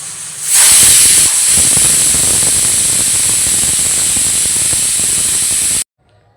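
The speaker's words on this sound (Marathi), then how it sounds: "शिट्टी लावूया आणि ह्याला 2 शिट्ट्या काढून कुकर आपण थंड करून घेऊया" A pressure cooker on a chicken curry whistles loudly, a sudden sharp rush of hissing steam that holds steady for several seconds and then cuts off abruptly.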